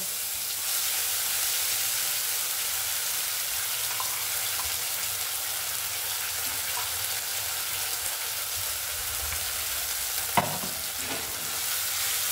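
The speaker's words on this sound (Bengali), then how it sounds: "মা যেই মশলাটা পেস্ট করেছিল সেটা মা তেলের মধ্যে দিয়ে দিচ্ছে" Spice paste for a rohu fish curry hits hot oil and fries with a steady, loud, hissing sizzle that holds evenly throughout, with one brief clatter near the end and no talk.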